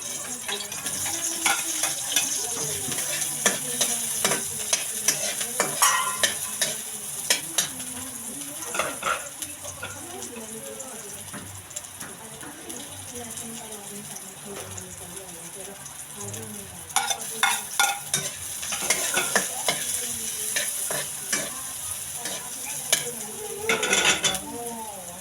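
Onion and garlic sautéing in a pan for ginisang upo, a close sizzle broken by repeated scraping and clinks of a utensil against cookware, louder bursts of stirring toward the end.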